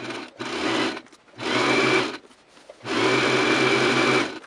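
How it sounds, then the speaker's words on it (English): Sewing machine stitching a fishtail fabric extension down the center back of a gown, three steady whirring runs of one to one and a half seconds each, separated by short pauses, close and loud with no talking. "start stitching it down the other side of the center back"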